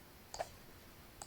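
Two faint, quick computer mouse clicks, close together, then a third click about a second later, made while working in graphic design software in a quiet room.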